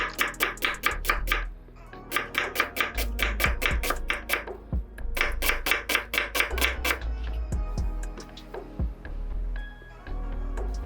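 A knife chopping onion finely on a board, with fast bursts of crisp, evenly spaced close taps separated by short pauses, slower scattered cuts toward the end.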